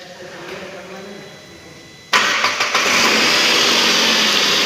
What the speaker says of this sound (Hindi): मैं अब गाड़ी स्टार्ट और करके दिखा देता हूँ, एंड क्रैंकिंग जो करते टाइम नॉइस आ रही थी वो भी ओके हो गई है।